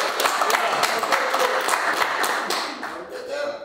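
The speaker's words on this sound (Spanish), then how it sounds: "¡Lo pueden aplaudir!" A group applauds at a football club's presentation of a new player, dense clapping running steadily throughout and easing slightly toward the end, with voices mixed in.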